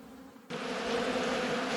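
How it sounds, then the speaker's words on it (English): Robber bees swarming around unopened beehives in a garden apiary, a dense, steady buzz that starts abruptly and continues close and fairly loud without any talking. "You can see these robber bees have come in straight away."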